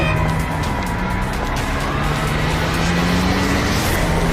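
A car engine drones steadily throughout with a faint tonal whine, loud and close, as a cartoon-style effect for a car accident, with no crash impact standing out.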